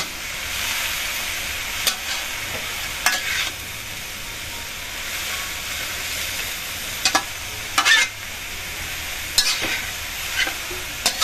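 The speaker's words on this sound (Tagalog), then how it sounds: "Haluin po ulit natin." Bean sprouts and tofu sauté in a pan, with a continuous loud sizzle broken by several scraping spatula strokes spread across the stretch; no one speaks.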